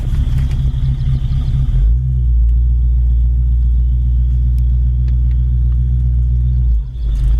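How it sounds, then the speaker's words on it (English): A 1967 Ford Mustang convertible's engine idles with a deep, steady rumble close by, holding an even low drone throughout with a slight dip near the end, and no talking over it. "This Mustang not only sounds mean,"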